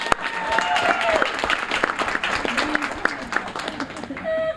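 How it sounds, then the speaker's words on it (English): Steady applause from an audience, a dense patter of many hands clapping, with a few sharper claps standing out; a voice briefly rises underneath. "deserves a round of applause"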